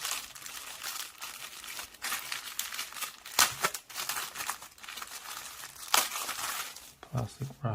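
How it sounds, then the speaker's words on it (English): Plastic wrapping of a silicone iPhone 12 Mini case package being handled and crinkled up close, with irregular crackling bursts and sharper crunches scattered throughout. "So it comes in this plastic wrapping."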